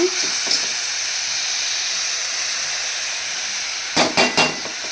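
Poori curry frying in a pan, a steady loud hiss and sizzle running throughout, with a few short sharp clatters of utensils near the end.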